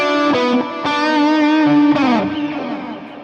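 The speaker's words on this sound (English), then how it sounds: "Oh yeah, now I can hear the delay in there." Electric guitar run through a Kurzweil Rumour rack unit with delay and reverb turned up full, chords ringing with distorted sustain and repeating echoes that smear together into a loud, washy tail.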